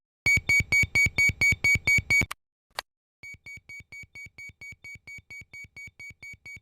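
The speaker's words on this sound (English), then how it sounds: "the evacuation horn sounds, and the evac lights in the forward and aft flight attendant panels flash" Airbus A320 cockpit evacuation horn sounding as a rapid series of loud, shrill, evenly pulsed electronic beeps, then a brief gap and a softer, slower run of repeated tones.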